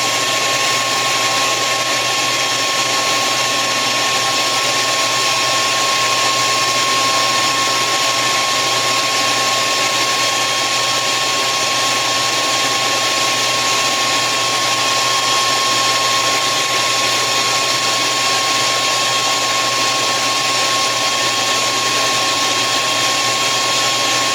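A heat gun blows hot air steadily to soften and cure glue on a doll-making project, a constant loud whirring hiss with a thin whine, unbroken for the whole stretch with no talk.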